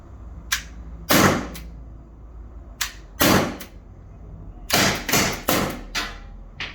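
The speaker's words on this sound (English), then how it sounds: "We have a 10-shot 177 BB firing Tornado air pistol" Tornado 10-shot .177 BB air pistol firing in a gun shop, about ten sharp snappy cracks in uneven bursts, some single and some quick pairs or triples, loud and close with no talk.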